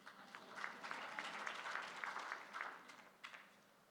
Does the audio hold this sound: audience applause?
yes